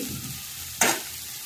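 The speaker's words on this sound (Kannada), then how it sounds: "ಸ್ವಲ್ಪ ಬೆಳ್ಳುಳ್ಳಿ ಹಾಕಿ ಫ್ರೈ ಮಾಡ್ತೇನೆ" Ginger and half-fried onion in a hot pan for a shark curry, a low steady sizzle broken by one sharp hissing flare as something is stirred or added, near and clear with no talking.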